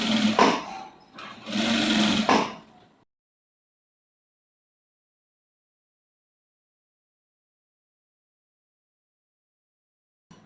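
Sewing machine stitching the neck lining of a blouse, a close whirring run in two bursts at the start, then silence.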